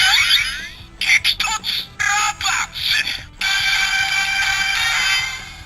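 Electronic sound effects from a Kamen Rider DX Gashat toy play loud and close, a run of clipped bursts and jingles followed by a long sustained tone, with ratcheting clicks from the toy's mechanism.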